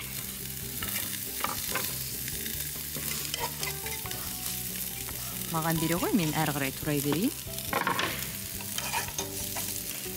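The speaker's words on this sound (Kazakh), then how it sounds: "Пиязды қызған табада қуырып аламыз." Onions fry in a hot pan in a busy kitchen, with a constant sizzle and stirring scrapes under conversational speech and clattering utensils.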